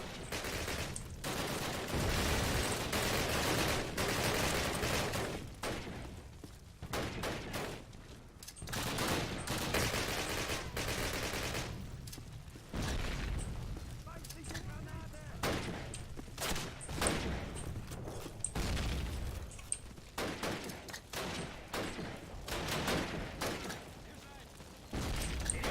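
Bursts of MP44 assault rifle fire in a Call of Duty battle, loud and continuous with rapid volleys and other gunfire layered over shouted voices and game sounds throughout.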